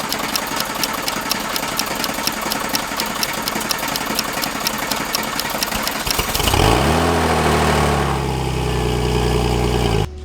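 A high-mileage Porsche 996 Turbo engine cranks with a rapid, even chatter for several seconds, then catches and fires into a loud, steady run with a climbing then settling drone, close by and with no talking.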